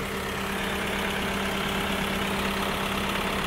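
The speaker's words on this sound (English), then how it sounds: "At umaandar na nga ang 4HL1 engine." A surplus truck's 4HL1 Euro 4 diesel engine idles with a steady, even, close-up low rumble and a constant hum. No voices.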